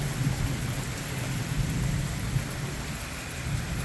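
Thunderstorm on the Fourth of July with heavy rain pouring down steadily and low thunder rumbling throughout, a dense continuous wash of rainfall close by with no voices.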